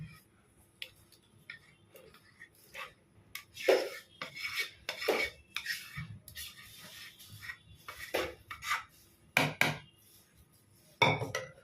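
Malai being stirred into curd in a bowl, heard as a spoon scraping and rubbing against the sides in irregular strokes, close and fairly quiet with short pauses between.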